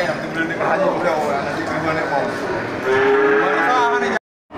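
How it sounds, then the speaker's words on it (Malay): Bull cattle moo in a busy livestock market, Simmental among them, with low drawn-out calls rising over the constant hubbub of crowd talk and animals, close and fairly loud. "di lapak punya Bang Syahril juga ini terlihat sangat banyak sapi jantan"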